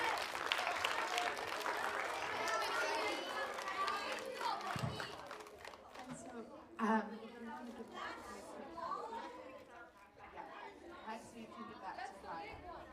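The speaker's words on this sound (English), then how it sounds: "can we also give a huge round of applause for everyone else that did their best up here?" A school assembly audience applauds with lively clapping that starts loud and thins out, while chatter and voices carry on over and after the fading claps.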